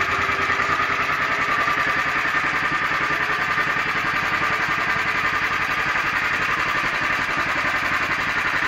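Motor Sich walk-behind tractor engine running with a potato digger attached, a loud close steady chugging idle with rapid even firing pulses and some rattling clatter throughout, no talking.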